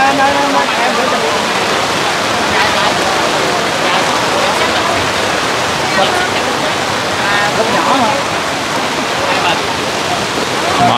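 Heavy storm rain pours steadily onto surfaces and shelter canopies at a crowded spot, a dense, loud, unbroken hiss of drops lasting the whole stretch with no letup.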